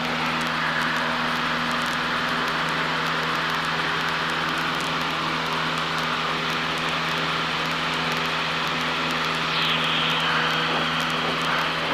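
A Cessna 152's engine drones steadily in flight, a loud, constant propeller hum heard from inside the small plane's cabin, with no talk over it.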